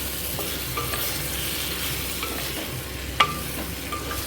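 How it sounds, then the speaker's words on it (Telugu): Steamed vegetables and paneer stirred in butter in a pan, a steady low sizzle with soft scraping and one sharp clink of the spoon against the pan. "ఒకసారి ఇట్లా బటర్ లోపల మనము కలియదిప్పాలి."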